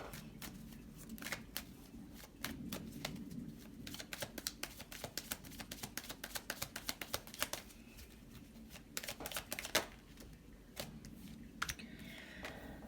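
Tarot cards being shuffled and pulled, a dense run of crisp riffling clicks and snaps with brief pauses between bursts, close and moderately loud, no talking.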